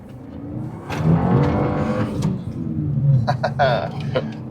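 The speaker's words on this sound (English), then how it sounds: "this car is just so much fun to drive on dirt" A Subaru WRX driving on a dirt road, engine rumble and revving from inside the car, heard under someone talking throughout.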